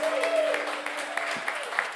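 A live radio-show audience applauds, a steady patter of clapping across the room, with a sustained musical tone lingering underneath.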